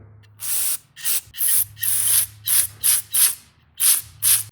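Repeated short hissing bursts of aerosol carburetor cleaner sprayed into a Troy-Bilt Storm carburetor from below, about ten quick squirts in an uneven rhythm, close up with brief pauses between.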